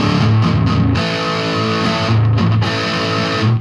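A Squier Jagmaster electric guitar played with a dirty, distorted tone through a Line 6 workshop amp rings out loud and alone in a few strummed chords that sustain between strokes.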